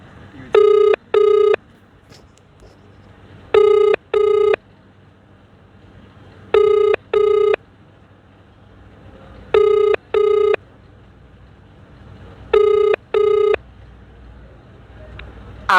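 An outgoing phone call rings unanswered, sounding five evenly spaced double-ring bursts separated by pauses, clear and close over faint background noise.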